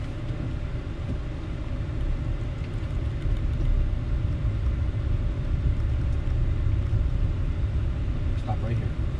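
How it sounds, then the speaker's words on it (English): A car reversing during a Florida driving road test gives a steady, close, low engine and road rumble that holds evenly throughout. "We're driving backwards with the correct posture."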